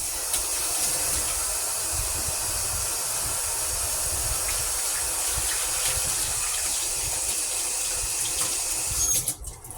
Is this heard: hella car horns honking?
no